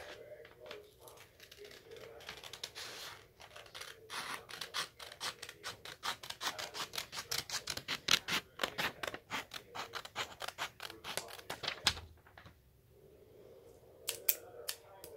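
Scissors snip repeatedly through paper folded to make an envelope, a close run of crisp rhythmic cuts with brief pauses, while faint talk sits underneath.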